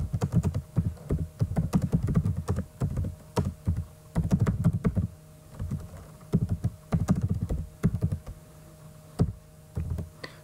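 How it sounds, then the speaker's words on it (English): Typing on a computer keyboard comes in bursts of rapid, close keystrokes separated by short pauses, with occasional heavier key thuds over a faint steady hum. "So let me type in the message first."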